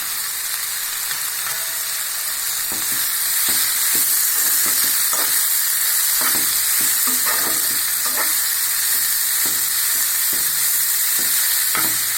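Carrots and beans stir-frying in a pan for noodles: a steady bright sizzle with repeated scraping and clacking of a spatula stirring close up.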